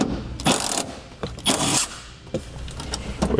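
A ratchet works a 14mm bolt out from under the cargo hook cover in a 2014 vehicle's cargo area, giving a few short bursts of close, brisk clicking separated by brief pauses, with no talking.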